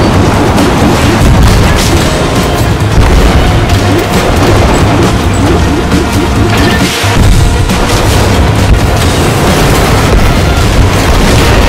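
Rocket explosions rumble through combat in the video game Agent Intercept, a dense, loud, continuous barrage of booms and crashes over the full stretch with no break.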